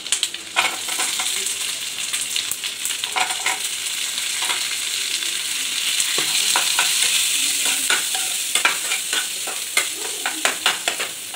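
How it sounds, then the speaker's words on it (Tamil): Onions and tomatoes fry loudly in a pan for kadai paneer, a steady close sizzle punctuated by bursts of rapid spatula scraping and clacking, with no voices. "இப்போ ஆனியன் வந்து கொஞ்சம் வதங்கிடுச்சு."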